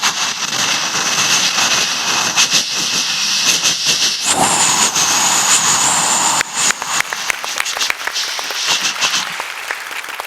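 On a comedy stage, a performer's voice imitates a moving train crossing a bridge. A continuous loud breathy hissing rush with rapid clattering pulses shifts tone midway, then breaks into fluttering bursts near the end.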